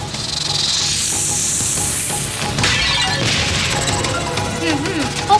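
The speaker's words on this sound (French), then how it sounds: "Un serpent." A snake in an animated cartoon hisses in a loud, sustained breathy hiss, mixed with scraping and crashing effects and a brief voice near the end.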